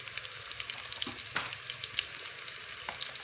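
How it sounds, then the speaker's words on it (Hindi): Masala for tomato curry with chicken pakora fries in a pan, a soft steady sizzle with a few light stirring scrapes, close and without talk. "तो यहाँ पे हमारा मसाला फ्राई हो चुका है"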